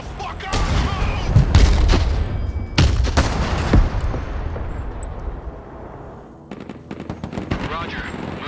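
Heavy, continuous gunfire and explosions in the military video game Broken Arrow, loud overlapping bursts and booms with radio-style voices talking through the battle, easing briefly before sharp shots resume.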